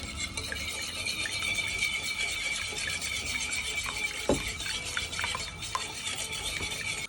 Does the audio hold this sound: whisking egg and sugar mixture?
yes